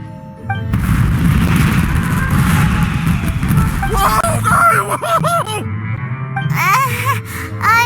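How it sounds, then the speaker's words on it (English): Fireworks bursting in Genshin Impact, a loud continuous low rumble of booms with crackling and rising whistling fizzes in the second half, layered over game music. "this is turning into a bit of a fireworks display"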